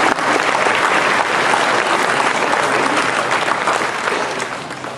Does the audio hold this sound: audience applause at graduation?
yes